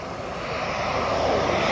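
A large model airplane flies during an RAF air show at Cosford, its engine droning steadily and loudly throughout, swelling slightly as it climbs away to the left, with no voices over it.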